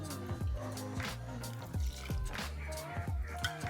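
Whiskey poured into a julep cup over pressed mint leaves and simple syrup, a short liquid trickle and dribble heard close up, with a faint voice in the background.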